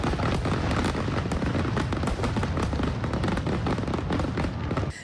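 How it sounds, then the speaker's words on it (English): A professional fireworks show bursting in rapid succession, dense crackling pops and booming explosions overlapping continuously, loud and close with no pauses. "legal professional fireworks shows like in Waikiki, Ko'olina, and Waikai are the best and safest way to bring in"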